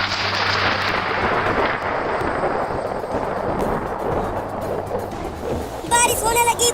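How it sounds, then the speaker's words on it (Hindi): Steady, dense cartoon rain hisses and patters throughout with a low rumble beneath, and voices briefly break in near the end. "बारिश होने लगी, बारिश होने लगी।"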